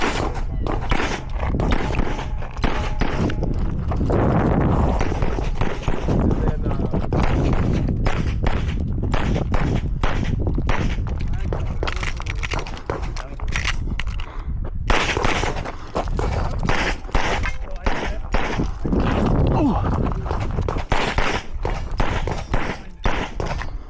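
Pistol shots at a USPSA competitive shooting match ring out in rapid strings of sharp, loud cracks, with brief pauses between bursts.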